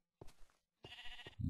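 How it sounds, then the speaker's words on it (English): Sheep in the Minecraft video game bleat twice in quick succession, each a short wavering call standing clear against an otherwise quiet background, with a low thud at the very end. "is that a sheep outside the door?"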